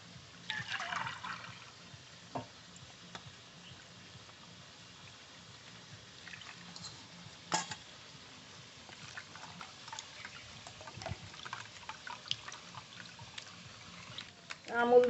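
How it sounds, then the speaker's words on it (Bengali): Finely ground coconut squeezed by hand with a little water to draw out its milk, giving a soft, wet trickling and squishing that carries on quietly throughout, with a few brief louder splashes. "নারকেলের দুধ বের করে নেব।"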